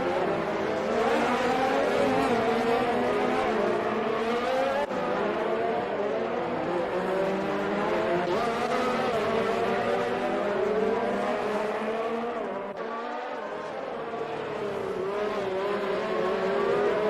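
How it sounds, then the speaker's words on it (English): Race cars engines roaring continuously in an Xbox Formula racing game at the Brazilian Grand Prix, a steady layered whine of multiple cars with shifting pitch throughout, loud and close. "Oh, Riles gets really swirly off the exit of that corner."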